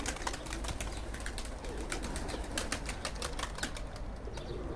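A steady flurry of flapping wings, many pigeons at once, fluttering and clattering continuously at close range with a busy, rustling texture.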